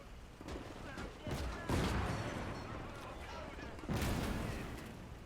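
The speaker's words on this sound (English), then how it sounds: "AT rifle." Heavy anti-tank rifle shots in the WWII real-time strategy game Call to Arms, set on the Eastern Front, fired against a tank: several loud, sharp reports with rumbling battle noise between them and a voice talking over it.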